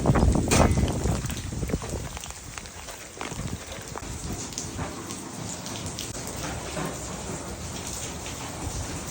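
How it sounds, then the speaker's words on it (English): Heavy rain pours down outdoors during a storm, a dense, steady hiss of water striking surfaces, loud and close throughout with splashy drops and no voices. "The noise you hear now is the water coming down."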